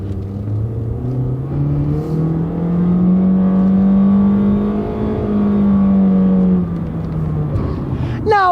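A Honda car with a CVT transmission pulls away from a stop, its engine note rising smoothly to a steady, sustained drone rather than stepping through gears, heard loud and close from inside the cabin.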